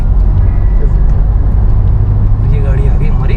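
A Tata Safari's engine pulls in fifth gear, a steady low rumble and road roar close up from inside the cabin, with faint chatter above it.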